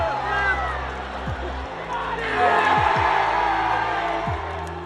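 A large outdoor crowd cheers and whoops in a steady roar as a squirrel crosses the goal line, with deep horn-like tones sounding through the noise for the whole stretch.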